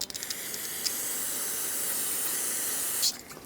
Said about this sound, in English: I'm going to rinse it with brake parts cleaner